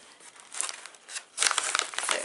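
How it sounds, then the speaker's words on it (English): Scissors snip and slice through mail packaging, a run of close crinkling and tearing of plastic or paper that grows louder and busier in the second half. "instead of looking for it, I'm just gonna use scissors."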